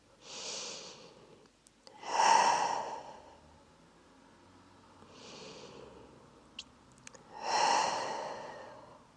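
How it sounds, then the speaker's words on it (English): Deep, slow breathing during a yin yoga session: two full cycles of a soft inhale followed by a louder, sighing exhale, close and alone with no talk, plus a couple of faint clicks. "Take 2 deep breaths."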